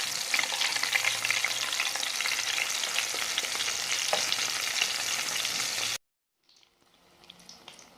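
Chicken pieces for a zinger burger frying in hot oil, a loud continuous close-up sizzle that cuts off abruptly, leaving faint scattered crackles afterward with no talking.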